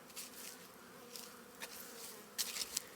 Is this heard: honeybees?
yes